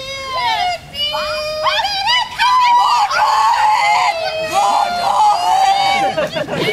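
A crowd gathered around a street singer screams and shrieks in loud, high, overlapping cries, with children's voices and excited babble mixed in.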